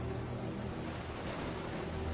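Ocean waves surge steadily onto a shore, a dense, continuous roar of surf with wind noise and no voices.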